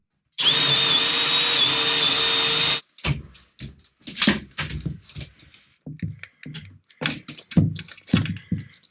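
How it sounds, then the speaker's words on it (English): A loud power drill whirs steadily for a couple of seconds, then stops, followed by clattering and handling noises. "Okay, let's drill a hole."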